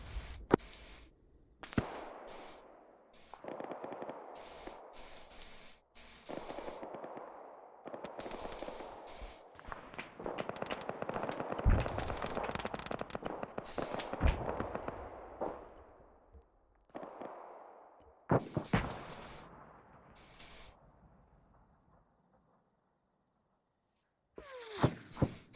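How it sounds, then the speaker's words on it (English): Gunfire in the military video game Arma 3, heard as irregular bursts and single cracking shots, some rapid automatic strings, fairly loud and close at times with quieter stretches between, no talk. "I heard some gunfire there."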